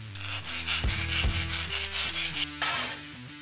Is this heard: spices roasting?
no